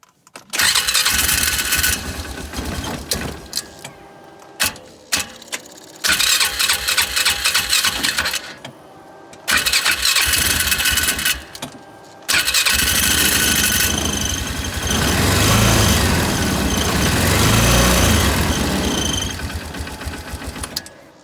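A 2010 Polaris Ranger 500 engine cranks on its newly replaced starter in repeated long bursts separated by short silences, loud and close, with a steadier engine run near the end.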